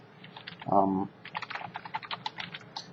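An Apple ID is typed on an iPad's on-screen keyboard in a quick, irregular run of light taps, heard up close and alone, with a brief voice-like sound near the start.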